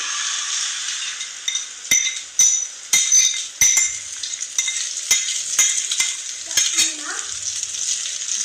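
Beaten egg mixture for an omelette fries loudly in a pan, a bright continuous sizzle broken by repeated sharp clinks and scrapes of a utensil as the egg is stirred close up.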